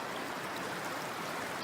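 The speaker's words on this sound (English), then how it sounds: "As you can see the speed of that water flowing." Fast-flowing stream water rushes steadily past rocks along a wilderness river crossing in the Eastern Arthurs, a continuous broadband wash heard close and loud with no voices.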